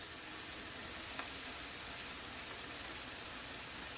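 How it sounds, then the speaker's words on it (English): Tomato paste cooking in a pot, giving a faint, steady sizzle like soft rain with a few small pops, alone without talk. "I'm going to let this tomato paste cook out where it dissolves in the pot"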